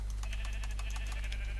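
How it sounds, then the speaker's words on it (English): Sheep in the video game Minecraft give short repeated bleats over a steady low hum, several quick calls in a row at moderate volume, with no talking. "There's a lot of sheep."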